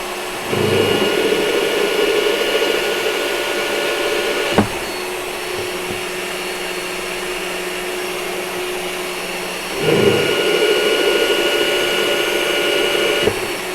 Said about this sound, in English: that was 800 RPM on a 6mm drill bit